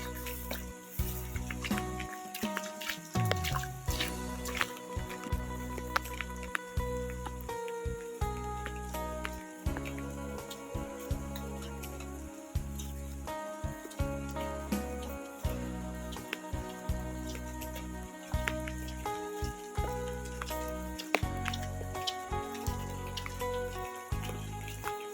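Water trickling and dripping while foraged mushrooms are washed outdoors in southern Laos, a steady soft patter of drops and small splashes continuing throughout with faint background noise.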